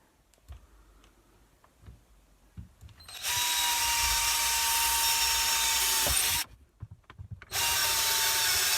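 A power drill bores holes into a wooden branch for a botanical mobile: a loud, steady whine runs for about three seconds, pauses briefly, then starts again, after quiet handling clicks.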